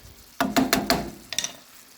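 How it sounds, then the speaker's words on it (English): Freeze-dried onions poured into a jar: a handful of crisp, rattling clatters in quick succession, close and clear, followed by two softer trickling pours. "here's some freeze-dried onions. Hear that sound?"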